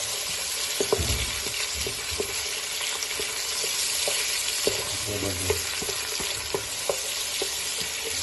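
Onions and mutton frying together in a pan, a continuous sizzle broken by repeated scraping stir strokes and light knocks of a spoon, close and fairly loud.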